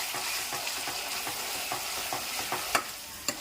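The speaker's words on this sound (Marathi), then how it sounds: "बघा मसाला आपण आता भाजून घेतोय" Ground masala of fresh coconut and tomato roasts in a hot pan, sizzling steadily as it is stirred, with a few sharp spoon knocks against the pan.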